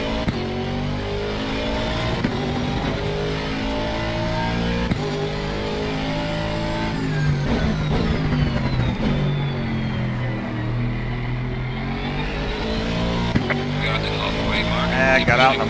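Aston Martin Vantage GT3 twin-turbo race car in Assetto Corsa Competizione at Misano, engine droning and revving steadily throughout with rising and falling pitch, a voice talking over it.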